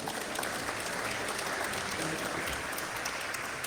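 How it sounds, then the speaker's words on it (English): Faint, steady applause from an audience at a technical talk on old train signals, a soft continuous patter of clapping heard from a distance. "Thank you with this sincere applause."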